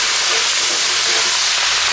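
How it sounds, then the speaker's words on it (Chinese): Plenty of oil sizzling hard in a smoking-hot wok as ginger, garlic and doubanjiang fry for Sichuan spicy boiled beef tongue, a loud, steady, close hiss with no talking. "下油，油稍微多点哈，下点姜蒜、豆瓣酱，炒香，炒出红油哈"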